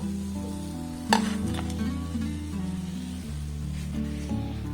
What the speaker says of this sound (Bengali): একইভাবে সবগুলোকে আমি খুব সুন্দর করে ভেজে নেব